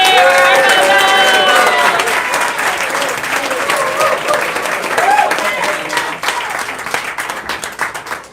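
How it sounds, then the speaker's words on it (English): A live comedy show crowd gives Sophie, the puzzle maker, loud, full applause with some cheering, strongest at the start and gradually thinning, with voices calling over it. "Let's give a big round of applause for Sophie!"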